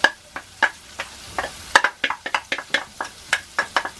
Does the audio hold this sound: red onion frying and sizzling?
yes